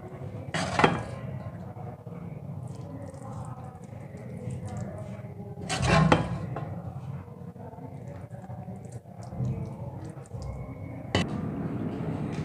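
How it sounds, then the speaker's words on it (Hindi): Homemade carrot halwa made with milk is spooned from a pot into a serving dish, giving a few sharp clinks and scrapes of metal on dishware over a low, steady kitchen background. "हलवे को मैं अपनी डिश में निकाल लूंगी।"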